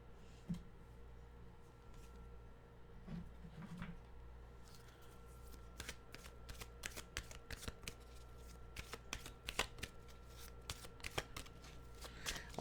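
Tarot and oracle cards are shuffled by hand in a quiet room, first a few soft slides, then a long run of crisp, rapid riffling flicks that grow busier and louder toward the end.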